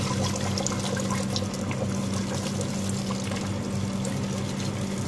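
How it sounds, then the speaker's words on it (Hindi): Three glasses of hot water pour steadily into a cooking pot of meat and potatoes, a continuous close splashing rush with a low hum underneath, no talking. "अब इसमें डाल देंगे पानी"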